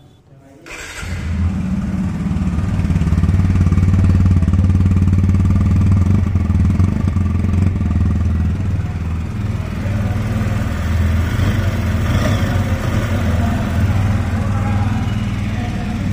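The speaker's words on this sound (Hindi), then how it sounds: "अब मैं आपको इसके एक जॉस्ट और इसके इंजन के आवाज़ को आपको सुना देता हूँ" A TVS Apache RTR 160 2V motorcycle engine idles steadily and loudly after starting, with a deep rumbling exhaust throughout.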